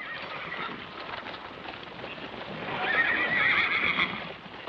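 Horses in a corral whinny and neigh loudly, with hooves clip-clopping and shuffling beneath, the calls swelling stronger toward the end.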